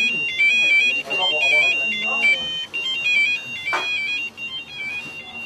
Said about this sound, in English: Got a Japanese phone that everybody in the band just loves.